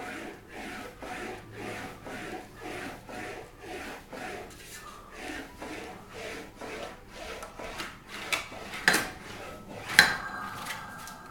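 English wheel rolling a metal body panel for a Wolseley Hornet Swallow sports car, a steady back-and-forth rubbing rhythm of smooth rolling passes, with a few sharper metallic knocks near the end.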